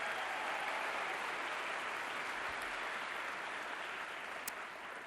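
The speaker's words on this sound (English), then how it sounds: "So please give him a big round of applause." A large audience at Stanford claps for a guest in a steady, even round of applause, moderately distant and continuous with no voices above it.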